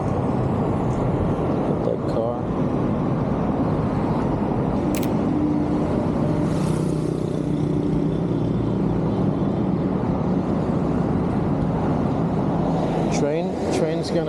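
A car passes on an urban city street near a bridge, a steady broad road rumble under constant traffic hum, with people talking throughout.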